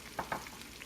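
Faint, soft sizzling of pork frying in lard on a stovetop, with a couple of brief pops, quiet and short.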